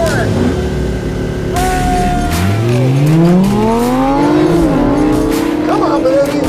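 A Lamborghini launches off the line in a drag race and accelerates hard, engine pitch sweeping up through gear changes with tire squeal, loud and close, while voices shout over it.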